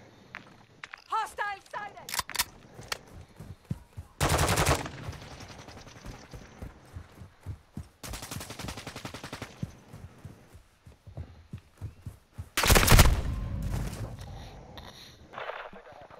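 Sentry gun firing in Call of Duty: Modern Warfare II, three long, loud bursts of rapid automatic fire separated by quieter stretches of scattered shots, footsteps and clicks, with voices talking in between.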